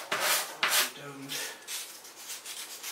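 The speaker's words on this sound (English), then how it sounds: "Sandpaper. Just put that into shape. Sand well, stays flat." Sandpaper rubbed over a carved wooden pike model, a few close scratchy strokes in quick succession, the first two strongest and the rest softer, with a voice briefly speaking.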